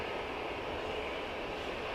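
An EasyJet Europe jet airliner departs Manchester Airport for Milan, a steady, distant engine roar of even, moderate loudness.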